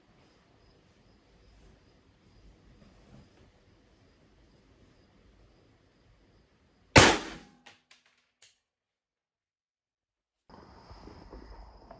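A single loud rifle shot, 77-grain Razor Core ammunition fired while zeroing a Zulus HD 5-20 scope, cracks sharply mid-clip, followed by brief echoing clatter and then quiet.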